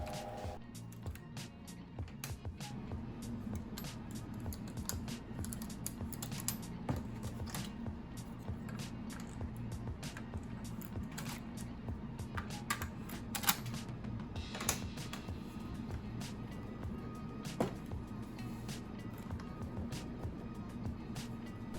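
Knitting machine carriage running back and forth across rows of a sweater collar at tension dial 4, a steady mechanical rumble with repeated rattling clicks and clacks throughout, close and continuous.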